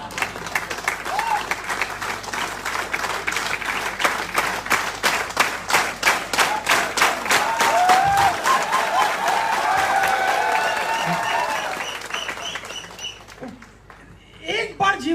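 An audience at a motivational industry speech applauds loudly in a dense, rapid stream of clapping that swells and then fades out near the end.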